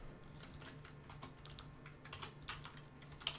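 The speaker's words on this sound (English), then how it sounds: "I'm using the home and end keys to essentially get to the beginning and end of a line" Computer keyboard typing while editing C++ code, home and end keys in use: quiet, irregular key taps in small bursts, with a slightly louder click near the end.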